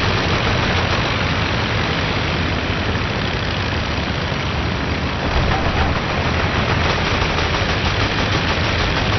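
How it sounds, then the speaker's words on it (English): In the Rise of Flight game, an aircraft rear gunner fires a WWI-era machine gun, dense rattling bursts blending with a constant heavy engine drone, loud and unbroken throughout, with no talk. "This guy's shooting back behind the aircraft there."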